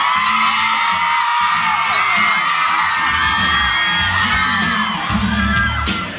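Loud, sustained crowd screaming and cheering at a mall event in Rayong, Thailand, with piercing whoops and shrieks layered over a constant roar of many voices.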